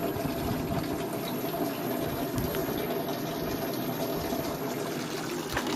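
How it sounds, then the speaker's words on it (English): A DC solar-powered water pump runs inside an old evaporative swamp cooler, giving a steady close hum with a continuous watery rush and no voices. "one for the pump that turns the water on"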